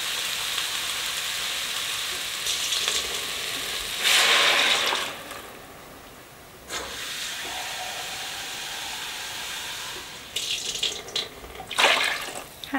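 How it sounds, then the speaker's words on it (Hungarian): Water poured into a pot of soup in a home kitchen, a broad hissing splash that comes in a few separate bursts, the loudest near the middle, with quieter gaps between pours. "egy liter vizet raktam hozzá egyelőre"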